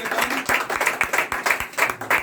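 A church congregation claps in unison during a service, with sharp, evenly spaced claps at a brisk steady beat, loud and close.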